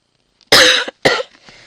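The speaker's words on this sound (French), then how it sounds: "en ce moment les toux allergiques c'est pas terrible" Two harsh allergic coughs in quick succession, close and loud, followed by a faint breathy trailing noise.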